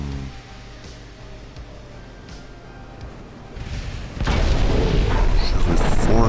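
Warship main guns firing high-explosive shells in Ultimate Admiral: Dreadnoughts, a French naval battle: quiet sea ambience with faint distant thumps, then heavy booming salvos swell in and build into a loud, sustained rumbling barrage.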